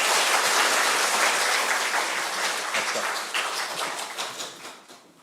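An audience at an academic lecture claps to welcome the second presentation, a full burst of applause that gradually thins and fades toward the end.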